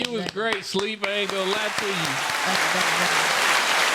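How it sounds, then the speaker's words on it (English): Audience applause for a podcast guest swells from under closing talk into a sustained, fairly loud wash of clapping that carries to the end. "let's give a round of applause to our guests"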